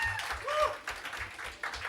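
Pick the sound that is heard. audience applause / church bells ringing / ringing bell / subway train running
audience applause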